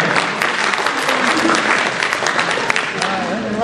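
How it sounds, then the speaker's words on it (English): At a general membership meeting, an audience applauds new members with loud, continuous clapping, some voices faintly audible beneath it. "Give a round of applause to our new members."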